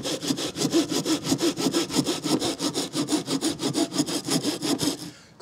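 A folding pruning saw, Bahco Laplander or Fiskars SW73, cuts through old weathered wet hardwood in steady rapid back-and-forth strokes, loud and close, alone until it stops.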